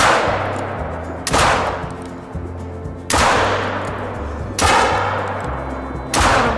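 Hunting rifle shots crack out in theHunter Call of the Wild video game, four loud sharp reports spaced a second or two apart, each trailing a rolling echo over quiet game ambience.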